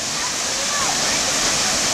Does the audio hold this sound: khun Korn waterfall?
yes